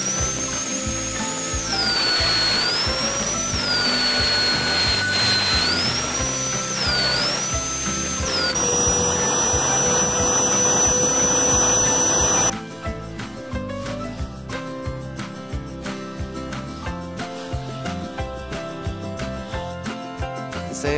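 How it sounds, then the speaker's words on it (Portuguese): A belt sander clamped to a workbench sands every side of a wooden mallet made of roxinha (purpleheart) wood. It gives a loud, continuous whine with pitch shifts as the piece is pressed, then the tone changes to rougher, rhythmic tool noise. "Prendi a lixadeira de cinta na bancada e lixei todos os lados da peça."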